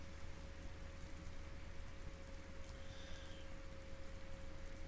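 Steady rain in American Truck Simulator, an even, continuous patter with a low rumble beneath, no talking.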